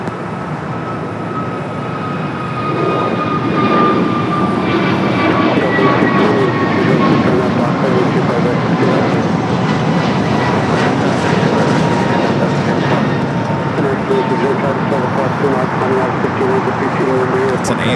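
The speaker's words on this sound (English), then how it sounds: "It's an A321neo heading to Chicago O'Hare." Airbus A321neo airliner on flight 2608 to Chicago O'Hare at Los Angeles airport, a loud engine roar that starts abruptly and holds steady with whining tones sliding downward, with talk in places.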